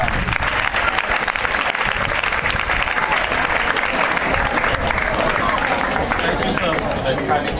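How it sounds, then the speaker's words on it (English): A round of applause from an audience at a programme introduction, dense loud clapping filling the whole stretch with a faint murmur of voices underneath. "Shall we give a round of applause to Mr. Salejee?"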